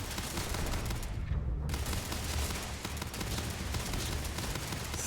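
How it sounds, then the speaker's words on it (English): Gunfire in the sci-fi game Starfield: a dense, unbroken wall of rapid shots and blasts, loud and sustained for several seconds with no pauses. "I am opening fire."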